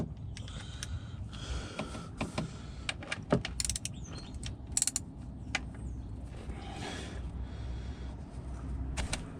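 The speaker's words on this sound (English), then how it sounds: "it's a 17mm for the drain bolt. And we're just going to crack it loose." Wrench work on the 17mm oil drain bolt of a Volvo V60 D5: scattered creaks, sharp metallic clicks and one or two louder cracks stand out over a steady low background hum, with no talking.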